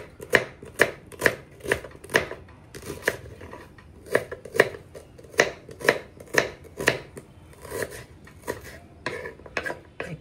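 A knife thinly slices ivy gourd (dondakaya) on a board in a home kitchen, with a steady run of about twenty sharp, close chops at a brisk, slightly uneven rhythm and almost no talking.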